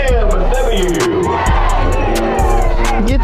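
A stadium crowd at a college football game roars and cheers loudly throughout, with band music and a voice talking close by over the noise.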